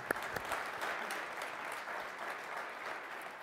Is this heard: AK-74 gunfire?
no